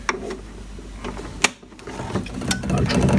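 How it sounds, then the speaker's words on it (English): A plumbing valve actuator motor runs close by with a steady mechanical whirr, broken by a sharp click midway before the motor drones on and pulls in, rising slightly toward the end. "Motor will move, there you go, it's pulled in, lock it up, final tight, so that just draws it in."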